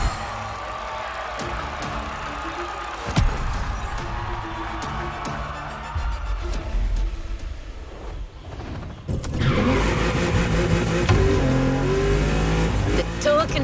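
A Mercedes-AMG One supercar in The Crew Motorfest racing game roars and revs steadily, rising and falling in pitch, with a sharper, louder burst of acceleration in the second half, up close with no talk.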